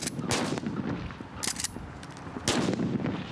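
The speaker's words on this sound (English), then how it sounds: "Gunfire." Period firearms fired on a film set during combat gun training, several sharp gunshot bursts in quick succession with echoing tails, loud and close, no speech.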